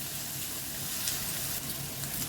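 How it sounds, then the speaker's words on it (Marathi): Chopped onion sizzles in hot oil in a pan while browning for a paneer curry, a steady close hiss with faint crackle. "इथे छान आपल्याला कांदा आता लाल करून घ्यायचा आहे"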